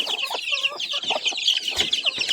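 Hungry chicks on a Filipino farm cheep and cluck continuously at close range, a dense chorus of high chirps layered with a few lower clucks, with no talking.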